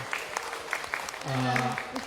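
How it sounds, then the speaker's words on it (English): Brief scattered clapping from a small group, with voices talking and calling out over it. "Can I just have a round of applause from everyone for April?"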